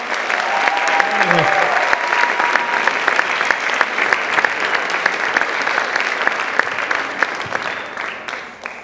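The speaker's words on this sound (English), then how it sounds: "let's give a round of applause while we're doing the photo" A crowd at an awards presentation applauds the award winners gathered for a group photo, with sustained loud clapping and a few voices briefly audible underneath.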